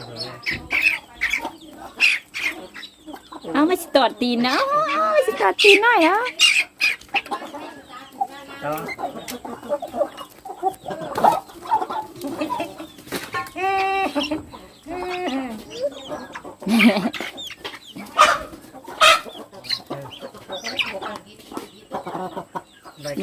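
Small chickens clucking and squawking close by in short, irregular bursts, mixed with a person talking and playing with them throughout.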